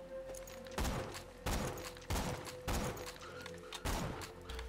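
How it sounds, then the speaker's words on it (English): Trespasser sniper rifle in Borderlands 2 fired rapidly, five heavy booming shots at roughly even intervals over a low steady hum, with no talk. "Obviously this is how fast that you fire the Trespasser."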